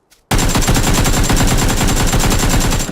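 Automatic gunfire in the video game PUBG, a loud sustained burst of rapid, evenly spaced shots starting abruptly after a brief quiet moment and running to the end.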